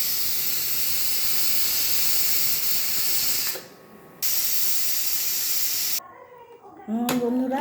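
Steam hisses loudly and steadily from a pressure cooker as it is opened after two whistles. The hiss cuts out briefly, resumes, then stops, and a voice is heard at the end.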